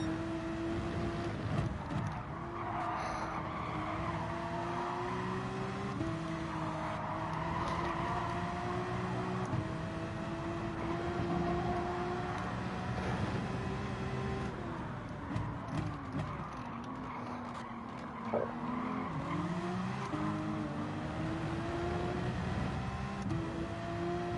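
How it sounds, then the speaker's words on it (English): A V10 Lamborghini race car in Gran Turismo 7 at Dragon Trail Gardens, its engine drone rising and falling through gear changes, a steady, moderately loud whine that runs unbroken throughout. "I can hear the noisy V10 Lamborghini behind me"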